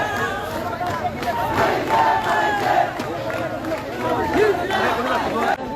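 A crowd chanting slogans on a government college campus, loud rhythmic massed shouting in waves with a tense, agitated edge and general chatter underneath.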